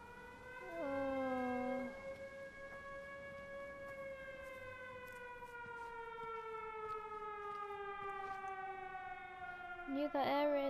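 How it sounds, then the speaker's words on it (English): An air raid siren in the video game Everybody's Gone to the Rapture wails in a long, loud, sustained tone that slowly sinks in pitch, ending with a short burst of other noise. "Knew that air raid siren was gonna come in handy."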